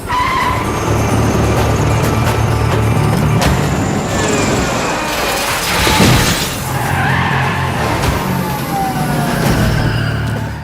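Loud car tyres skid during a film chase, with screeching over a sustained engine roar, a sharp burst near the middle and continuous action noise throughout.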